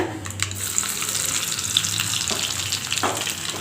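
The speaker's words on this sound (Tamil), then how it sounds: "நல்லா கடுகு பொரியுதுங்க" Mustard seeds spluttering in hot oil in a pan, a close, steady frying crackle with scattered small pops and a short sharp burst near the end.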